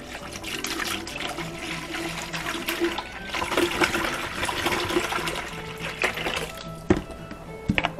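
Mead must pours and gurgles steadily into a bucket, with splashing and a few knocks and clunks near the end.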